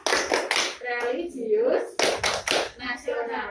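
Children and a teacher in a grade 3 classroom clap out the Tepuk PPK chant, sharp rhythmic hand claps alternating with chanted spoken words.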